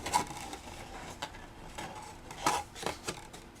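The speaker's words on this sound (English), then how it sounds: "Use my big old spatula to get a nice stick" A big old spatula pressing and scraping against a glued end of a homemade Christmas tower craft box, giving a few faint clicks and scuffs spread over a few seconds, with quiet handling noise between them.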